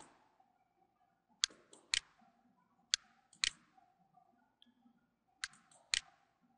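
Computer keyboard keys tapped in short, sparse clusters of sharp, close clicks with quiet gaps between, while someone speaks softly throughout.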